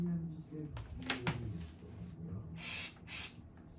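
Undercoating from an aerosol can sprays onto the tailgate of a 1952 PD4103 bus in two close, loud hissing bursts, with quieter handling noises and low sounds before them.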